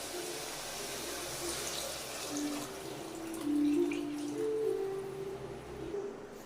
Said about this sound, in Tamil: ஒரு 3 கப் அளவு தண்ணியை இதோட ஆட் பண்ணிக்கலாம்